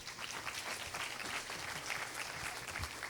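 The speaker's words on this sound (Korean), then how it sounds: "감사의 큰 박수를 부탁합니다." Lecture audience applauding together, a steady dense patter of clapping hands filling the hall throughout, moderately distant and fairly faint, with no voices over it.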